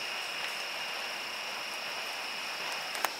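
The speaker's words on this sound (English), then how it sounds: "How perfect the sound of rain." Steady rain patters down outdoors at a rural house, an even wash of hiss with a faint high tone running through it and one sharper drop or tap near the end.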